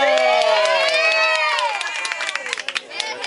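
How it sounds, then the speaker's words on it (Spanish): Children cheer and shout together at a community activity in Siloé, a loud burst of young voices that fades into scattered claps and yells. "¡Un aplauso, un aplauso."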